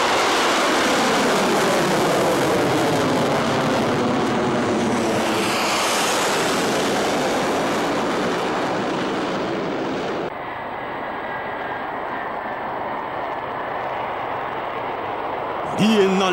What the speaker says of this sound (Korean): 비행기들이 날아오르고 있습니다.